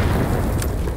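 A frag grenade explodes in the video game Hired Ops, a deep, rumbling boom that fills the whole moment at close range with no voices.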